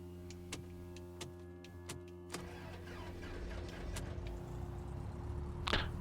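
A piston aircraft engine in the X-Plane 12 flight simulator starts up, with clicks and cranking giving way to a steady, building mechanical drone and a sharp burst near the end.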